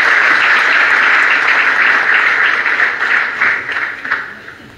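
Sustained audience applause at a digital technology conference in France as the speakers leave the stage. It is dense and steady, then thins toward the end with a few louder claps standing out.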